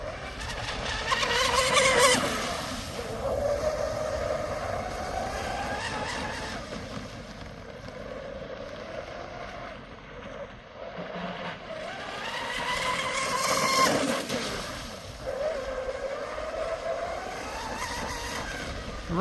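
A Proboat 29-inch RC catamaran with an ABC x445 prop screams past at top speed, its high electric whine rising and falling in two loud passes over steady water hiss.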